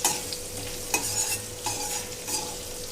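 Close, steady sizzle of bitter gourd pieces frying in tempering, broken by a few distinct scraping strokes as a spoon stirs them through the pan.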